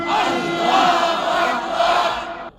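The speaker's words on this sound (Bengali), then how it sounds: "আপনারা জবানটা খুলে একটা তাকবীর দিবেন, নারে তাকবীর" A crowd at a religious zikr gathering shouting takbir together, a loud massed chant of many voices that swells, dips briefly and swells again before cutting off abruptly.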